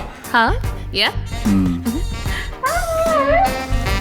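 A dog yelps and howls in rising, wavering cries, mixed with whimpers and overlapping voices nearby.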